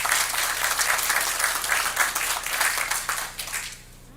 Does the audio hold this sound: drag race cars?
no